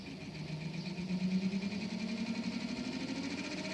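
A DC motor on a 15 A driver is sped up with a potentiometer, giving a close, steady whirring whine that climbs slightly in pitch over a few seconds, with no talking.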